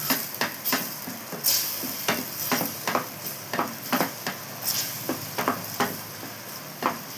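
Chicken curry gravy stirred in a pan, a spatula scraping in an irregular series of distinct strokes over a steady, close sizzle.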